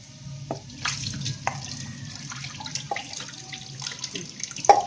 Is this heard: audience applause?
no